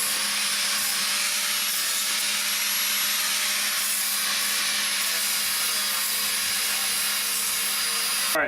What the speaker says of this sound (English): Might have to use a vacuum if I can find one.